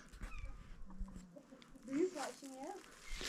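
Close rooster clucks and soft throaty calls sound in short bursts, with a person's voice and quiet background noise mixed in.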